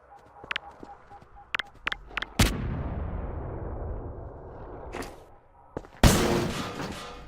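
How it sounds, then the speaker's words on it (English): Explosions in the video game Entropy Zero: a few sharp gunshot-like pops, then two heavy booming blasts, each with a long rumbling decay, loud and close. "You can also trigger the explosions early with either the stun stick or AR2 energy balls."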